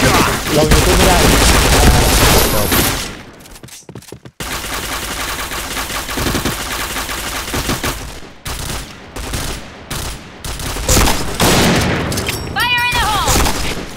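Video game gunfire. Loud, dense bursts of rapid automatic shots and fusillades fill most of the stretch, broken by brief quiet gaps. Excited voices talk over the shooting.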